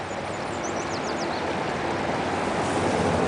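Creek water rushes steadily through a 5-foot Sidewinder sluice box prototype with six containment curves, a continuous close, loud wash of flowing water with no talk.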